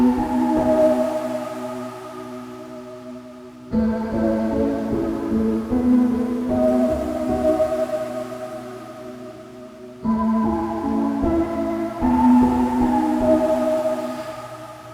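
UVI Sparkverb reverb plugin in lo-fi mode, emulating a vintage rack reverb, washes over sustained synth chords in long, swelling phrases with smeared tails and a slight warble, loud and alone with no speech.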